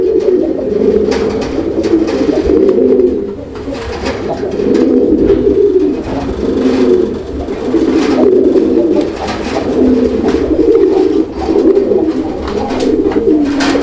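Indian Kagzi pigeons coo up close in loud, repeated rolling phrases, rising and falling in waves with brief pauses between rounds.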